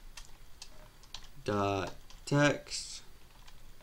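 Keys are tapped on a computer keyboard in a quick light patter of small clicks, with someone talking over part of it.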